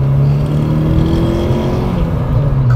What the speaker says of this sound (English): That is a turbo.